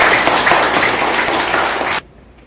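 Audience applause at a senior citizens' association chapter chairman inauguration ceremony in Seoseok-myeon, Hongcheon: a steady, loud wash of clapping lasting about two seconds before it cuts off abruptly into near silence.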